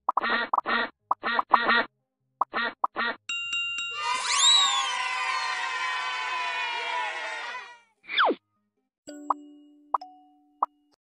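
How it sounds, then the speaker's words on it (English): Cartoon duck quacks from a phonics reading game: a few quick quacks, then bright chimes and a long sweeping magical jingle, followed by more quacks and soft dings, all crisp and close with no talking. "All the ducks have escaped!"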